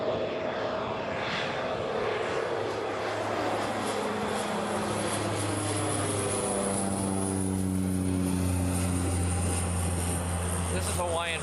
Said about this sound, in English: This is Hawaiian Flight 1. It's coming in from LA with the Extra X.